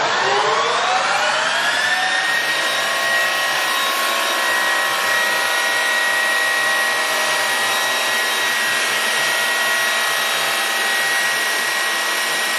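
A Harrison 13x40 lathe winds up over the first two seconds to its top speed of 2,500 RPM, then holds a steady, loud, close whine with bright harmonic tones and no talking.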